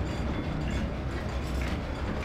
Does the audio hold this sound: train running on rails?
yes